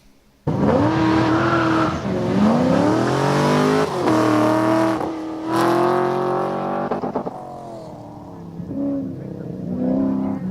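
A street car racing at the SVRA Sebring vintage event, its engine loudly revving and rising in pitch as it accelerates past, with a brief tire squeal and voices talking underneath.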